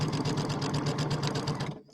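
A sewing machine stitches fabric at a steady fast pace, its needle beating in an even rhythm close by, then stops abruptly near the end, with no voices.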